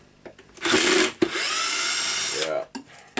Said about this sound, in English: I will try now to unscrew it with the drill.